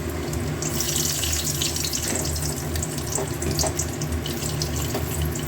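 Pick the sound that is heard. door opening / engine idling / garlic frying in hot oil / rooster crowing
garlic frying in hot oil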